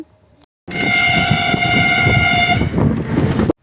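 A train rumbles into the platform at Ranaghat station loudly with a sustained blaring horn over the clatter of wheels, close by, then cuts off abruptly.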